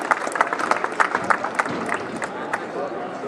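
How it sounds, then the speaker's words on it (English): A crowd claps and cheers at the ceremonial start of the Donegal International Rally, a dense burst of applause with sharp individual claps, fairly close, with voices mixed in. "Give them a round of applause."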